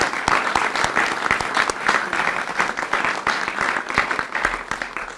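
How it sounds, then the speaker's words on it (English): An audience applauds at a government press briefing on rebuilding Eastern Kentucky, a steady round of many hands clapping from a moderately distant crowd for several seconds. "So please join me once again for a big round of applause."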